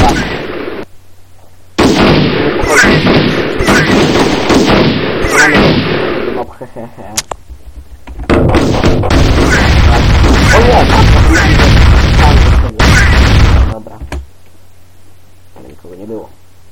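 Bursts of loud, rapid gunfire in the game Stick Soldiers 2 come in two long volleys separated by a brief lull, sharp and close with booming impacts.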